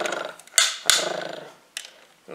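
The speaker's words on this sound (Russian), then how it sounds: "Тут вот киса вот интересная такая новая. Она рычит вот у нас." A new toy cat makes a few short, harsh electronic growls in bursts, close and fairly loud, with quiet rustling between them.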